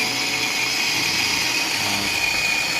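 Food processor grinding whole peeled garlic, a steady high-pitched motor whine with a constant buzzing drone and faint chopping rattle underneath, close and unbroken.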